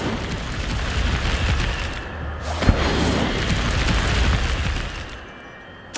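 The Incendio fire spell in the game Hogwarts Legacy, played on PC, produces a sustained roaring whoosh with a sharp burst in the middle, then tails off before another blast hits right at the end.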